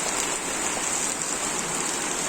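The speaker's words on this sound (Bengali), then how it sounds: "এখন আবার বৃষ্টি শুরু হয়েছে।" Steady rain pours down outdoors, a dense, even hiss of drops striking surfaces, loud and unbroken throughout with no voices.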